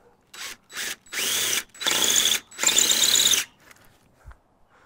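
A power drill pre-drills holes into steel while fixing a broken fence post, whirring in several bursts, two short pulses followed by three longer runs of steady high-pitched grinding, close and loud.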